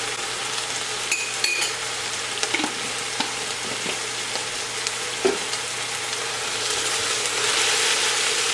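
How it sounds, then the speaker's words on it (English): Mushrooms and minced garlic sizzle steadily in a pan, with occasional clinks and scrapes of a utensil stirring against the pan, close and continuous with no talking. "we're going to cook this until the mushrooms are kind of softened"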